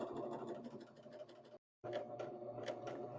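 A serger stitching two layers of fabric runs with a fast, steady mechanical whir and rapid needle chatter, pausing briefly before resuming, close and moderately quiet.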